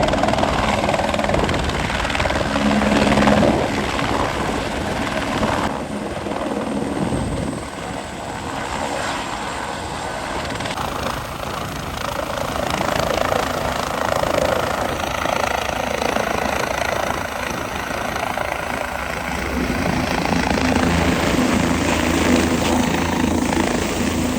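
A helicopter at Kedarnath, one that had been in an accident and was under repair, gives a loud continuous rotor and engine drone that holds steady and close for the whole stretch, with no talking.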